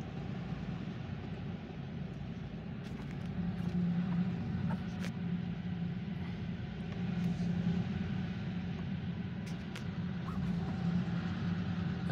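A loaded Union Railroad freight train, the Coke Express, passes on the outer track as a steady, sustained rumble with low drone and faint metallic rattles, holding level for about twelve seconds with no talk.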